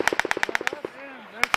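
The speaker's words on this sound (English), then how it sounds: "Somebody's shooting that way." Automatic gunfire during Marine combat in Afghanistan: a rapid, evenly spaced burst of about a dozen sharp shots, a brief lull, then two more close, loud reports.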